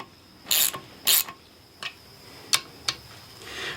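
Ratchet tightening bolts on a Ford transmission top cover, heard as a few short bursts of close metallic clicking, then several single sharp ticks spaced apart, with no voices.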